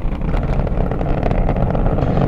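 Space Shuttle Atlantis on its final launch, STS-135, climbing on its three liquid-fuel main engines. A loud, continuous, dense broadband roar and rumble holds steady and unbroken throughout.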